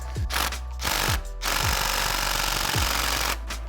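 An impact wrench hammers on the primary gear bolt of a Suzuki RM250 two-stroke engine, firing in several loud rattling bursts separated by short gaps, close to the microphone.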